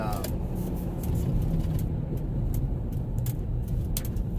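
Car interior while driving: a constant low engine drone and road rumble fill the cabin, with periodic brighter ticks and whooshes passing, as someone talks steadily over the noise.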